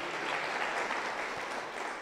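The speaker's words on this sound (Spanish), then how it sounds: "Denle un fuerte aplauso contento a Jesús." A Pentecostal church congregation in Cajamarca applauding for Jesus: a dense, sustained wash of many hands clapping together, moderately loud and steady, tapering slightly near the end.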